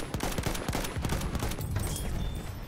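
Battlefield 1 multiplayer gunfire, a steady rattle of rapid shots with sharper single cracks mixed in, loud and continuous over the game's background noise.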